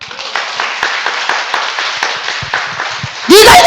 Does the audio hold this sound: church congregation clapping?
yes